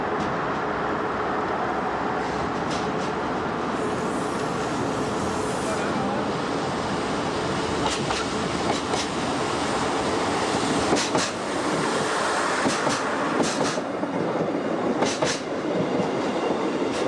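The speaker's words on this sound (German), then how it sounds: "Ausfahrt im damals fahrdrahtlosen Bahnhof Berlin Zoologischer Garten." A DB class 628 diesel railcar departs Berlin Zoologischer Garten station, its engine a steady droning rumble with faint rail clicks throughout.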